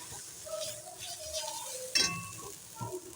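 A spoon stirs fried onion, garlic and ground cumin and coriander in a pan for matar paneer, soft scraping and a light sizzle with one clear metallic clink against the pan.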